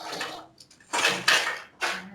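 Dishes are being scrubbed and rinsed with running water somewhere in the background, producing intermittent bursts of splashing and clattering separated by near-silent gaps.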